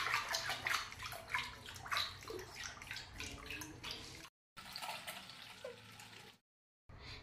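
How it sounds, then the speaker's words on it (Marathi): Buttermilk in a pot is stirred briskly, making continuous wet sloshing and swishing close by, with two short dropouts of silence and no voices. "मस्त मी ताक हलवून घेते."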